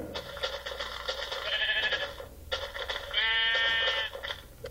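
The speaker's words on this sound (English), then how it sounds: "Oh, look, another sheep." A sheep in Minecraft Pocket Edition bleats twice, fairly clear and close, each call a wavering nasal baa over faint game ambience.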